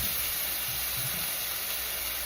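Food searing in a hot pan gives off a steady, even sizzle and hiss, close and constant throughout with no talking.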